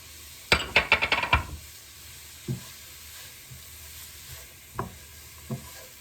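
Grated papaya tossed with turmeric and salt in a bowl, a quick run of rapid clinks and scrapes followed by a few isolated taps against the dish in an otherwise quiet room.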